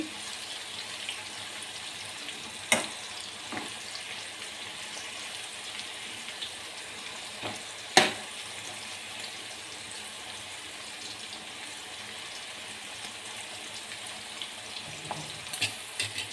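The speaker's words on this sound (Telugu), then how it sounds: "ఒకసారి కాకరకాయ ముక్కలను బాగా కలుపుకోవాలండి" Bitter gourd pieces fry steadily in a pan with a continuous soft sizzle, broken by a few sharp clinks and scrapes as they are stirred.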